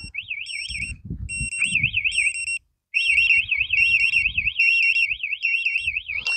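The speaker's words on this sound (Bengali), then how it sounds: "আমি একটু অ্যালার্ম দিয়ে দিচ্ছি দাঁড়ান" A Tasslock motorbike anti-theft alarm wails loudly and continuously with a warbling siren and beeping tones, briefly cutting out mid-way before resuming, alone with no talk.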